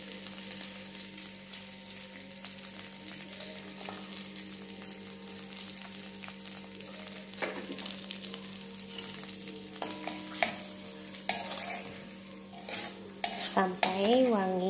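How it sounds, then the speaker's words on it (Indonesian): Garlic fries in oil and margarine with a gentle continuous sizzle under a low hum, joined by scraping stirs and metallic clinks of a spatula on the pan that grow busier toward the end. "Sesudah ini baru kita masukkan bawang putih"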